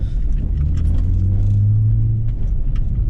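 An E46 BMW wagon on MaXpeedingrods coilovers rolls through gravel at low speed, with a loud close rumble of tyres and suspension plus crunching and rattling over a low engine drone, no talking.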